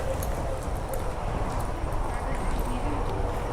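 Barrel horses' hooves clip-clop steadily on the ground at a bits clinic, forming a dense, continuous patter of nearby hoofbeats with people talking in the background.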